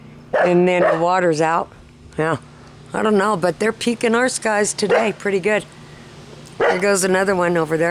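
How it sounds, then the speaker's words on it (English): A dog barks repeatedly outdoors, with sharp yips mixed into steady talk from a nearby man; the barking and voice overlap throughout. "That's my dog. I don't know what he's barking at."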